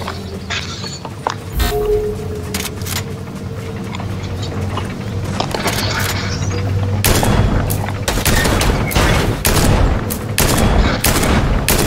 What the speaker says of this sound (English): where those shots coming from?